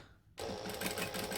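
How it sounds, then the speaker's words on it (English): A sewing machine back stitches a short seam on a fabric bag. After a brief near-silent moment, the motor starts abruptly and runs as a steady, close, fast mechanical whir. "So we're going to back stitch."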